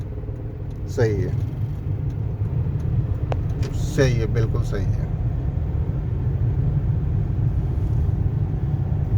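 A Hyundai Xcent's engine rumbles steadily as the car pulls away during a driving lesson, a continuous low drone throughout while someone speaks briefly over it.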